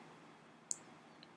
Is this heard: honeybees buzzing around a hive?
no